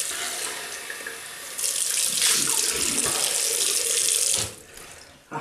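Water streams steadily from a tap into a sink for rinsing after a shave, a loud continuous rush that swells midway and then cuts off near the end, with no talking.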